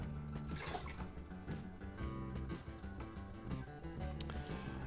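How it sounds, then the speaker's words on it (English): Liquid for mead, measured before any honey is added, is poured back into a container in a continuous splashing trickle, faint and close. "And we'll go ahead and pour this back in here."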